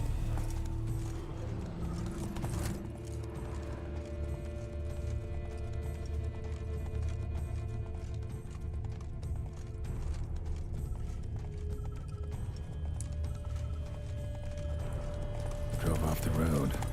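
Roach the horse gallops through The Witcher 3: Wild Hunt with steady, rhythmic clip-clop hoofbeats, joined by creaking tack and a constant low ambient drone, moderately loud and without talk.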